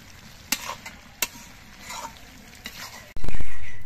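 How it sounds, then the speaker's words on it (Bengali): Malabar spinach (pui shak) curry stirred in a pan with a few sharp scraping clicks over a low sizzle, ending in a sudden loud burst of noise. "পুঁই শাকটা আবার নেড়ে দিতে হবে।"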